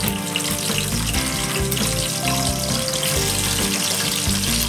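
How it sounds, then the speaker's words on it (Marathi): Green chillies frying in a pan for Chandan batva bhaji, a steady, loud sizzle that runs unbroken from start to finish, dense and hissing, with no voices over it. "आपण मिरच्याही टाकून घेऊया आणि त्याही व्यवस्थित परतून घेऊया"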